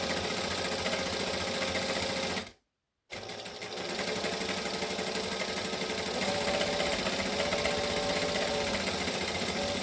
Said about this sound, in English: I'm going to back stitch at that end as well